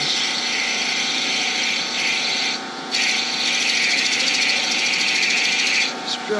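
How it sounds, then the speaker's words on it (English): A small machine with limited torque drills into metal while making a bronze and Damascus steel mug, a steady loud whirring grind with a brief dip partway through. "It's drilling much better."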